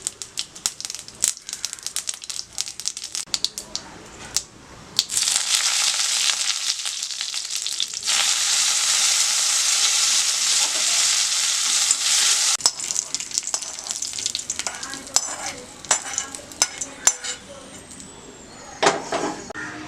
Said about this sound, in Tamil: இப்போ கொஞ்சமாக கடுகு சேர்த்து கருவேப்பிலை,